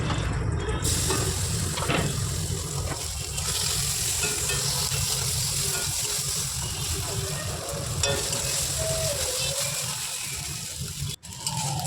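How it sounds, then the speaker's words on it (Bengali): Loud, continuous sizzling of paneer frying in oil in a wok, with occasional stirring scrapes and faint background hum. "এবারে আমি একটা কড়াইতে একটু তেল দেবো, তেল দিয়ে এখানে আমি পনিরটাকে ভেজে নেব"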